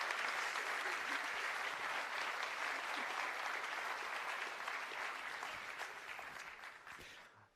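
Audience at a university graduation ceremony for bachelor and master graduates applauds steadily as a dense wash of clapping, holding loud and even before tapering off near the end.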